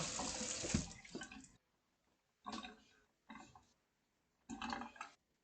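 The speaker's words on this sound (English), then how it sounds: "Wash the hands with soap and water, soap and water, soap and water." Hands being washed with soap and water under a running tap, heard as bursts of flowing, splashing water that start and stop several times in separate spurts, close and fairly quiet.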